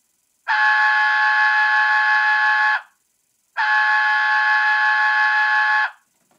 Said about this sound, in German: Dann haben wir F18, den SIFA-Alarm